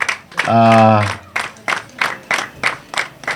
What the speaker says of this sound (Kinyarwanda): Ni mu bakomera amashyi cyane